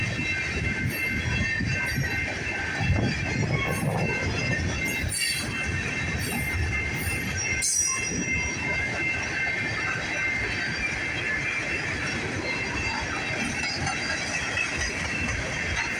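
Freight train with Montana Rail Link hopper cars rolling past close by: continuous loud rumble of wagons with rhythmic wheel clicks over rail joints and high metallic wheel squeal sustained throughout.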